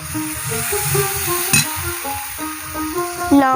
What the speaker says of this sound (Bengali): এবার দেখো সামান্য জল দিয়ে দিল